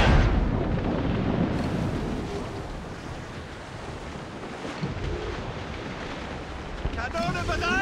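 Naval cannon fire from warships during a sea battle in Assassin's Creed Rogue, heavy booming bursts blended into a continuous roar of surf and wind, with a brief voice-like sound near the end.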